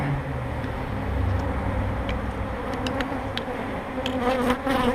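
Honeybees swarm around an opened beehive during a spring inspection, a dense, steady buzzing hum filling the whole stretch, close and loud, with a few light knocks and clicks of hive parts on top.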